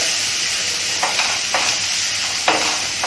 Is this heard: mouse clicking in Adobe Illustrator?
no